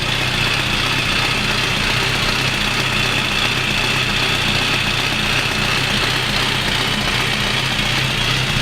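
An Austin engine fitted with an Arden 8-port head runs steadily while warming up, a loud continuous idle with a knocking, vibrating mechanical rumble and no talk.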